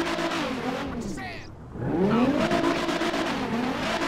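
A Nissan GT-R R35 in GTA 5 revs loudly and close by, its engine pitch climbing in sweeping rises after a brief dip, with a person talking over it.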